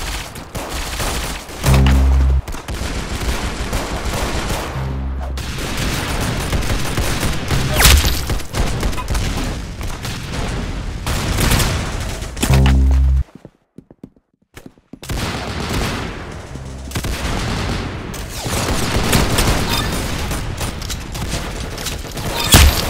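Rapid bursts of gunfire from a first-person video game shooter, loud close volleys with heavy low booms, a short silent gap midway, then sustained firing again with no talk.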